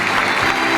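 Audience applause at a tribute ceremony for a retired French football federation vice-president, a brief dense burst of clapping, steady and close.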